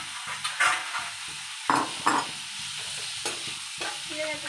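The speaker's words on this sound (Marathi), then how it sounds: "असं मिक्स करून घ्यायचं चांगलं परतून थोडंसं। आणि बटाटे चिरलेले याच्यात घालायचे" Chopped potatoes for a dry fasting potato bhaji stir-fried in a hot pan, close sizzling broken by several sharp scrapes and clatters of a spatula against the metal, with no voices.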